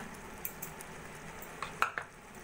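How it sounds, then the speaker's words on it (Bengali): Chicken khichuri of rice and lentils being stirred in a pot with a spoon, giving soft close scrapes and a couple of sharper clinks against the metal over a faint background hiss. "সবকিছু ভালো করে মিশিয়ে নেব।"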